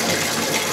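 Water gushes steadily into a Ridgemonkey 10 litre plastic water container, a dense, loud, continuous rushing splash filling the moment.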